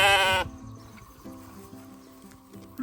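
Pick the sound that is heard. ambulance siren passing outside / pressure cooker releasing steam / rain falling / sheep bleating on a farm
sheep bleating on a farm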